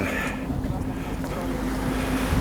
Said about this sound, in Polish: jesteśmy tutaj na jachcie i, i, od, i płyniemy